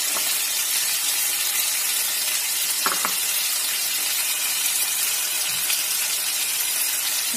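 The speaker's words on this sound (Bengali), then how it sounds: "আমার গাজর আর বিট আর আলুটা ভাজা ভাজা হয়ে এসছে।" Beet, carrot and potato frying with ground cumin, cumin paste, coriander and turmeric, giving a bright, constant sizzle with a couple of short utensil knocks partway through, no voices.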